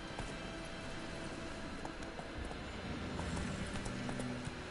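Horse hooves in the video game The Witcher, a steady clip-clop gait running continuously, faint under a broad noisy game background.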